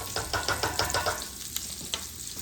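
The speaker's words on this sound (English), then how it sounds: "Sort of give this a stir and see what's going on here." Spoon stirring sausage frying in a pot for seafood gumbo, with loud, close scraping strokes over a steady sizzle, then a quieter bubbling fry.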